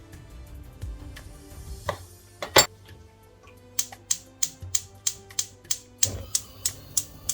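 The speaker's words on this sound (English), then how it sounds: "And 2 tomatoes, just cut half." A knife cuts tomatoes in half on a cutting board, giving a rapid series of about a dozen sharp, evenly spaced taps close by, with a few scattered clicks before them.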